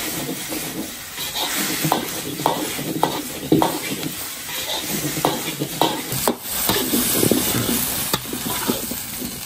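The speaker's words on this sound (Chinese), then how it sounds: "叶葱下锅，再给它翻炒两下起锅" Scallions tossed into a hot iron wok and stir-fried, a steady sizzle and frying hiss with repeated scraping strokes of the spatula, close up, with no talking.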